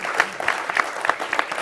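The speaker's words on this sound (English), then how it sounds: "Round of applause for the first speaker" An audience at an impact investing summit applauds the first speaker, brief close clapping that is sparse and uneven rather than a full roar, with a faint voice underneath.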